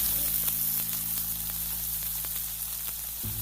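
Finely chopped onions frying in hot oil for Schezwan Manchurian give a steady close sizzle with faint crackles throughout, ending in a brief low clunk.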